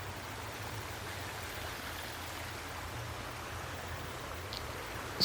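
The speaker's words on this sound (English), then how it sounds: "nice little waterfalls flowing down right here." Water of a creek spilling over small waterfalls on a canyon hike, a steady even rush of flowing water close by, with no voices.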